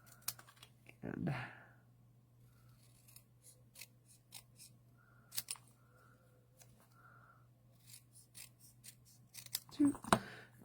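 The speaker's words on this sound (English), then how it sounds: "All right, we'll get our scissors." Scissors snip through paper during card making at a crafting table, giving a few quiet, separate cuts with a steady low hum underneath and pauses between them.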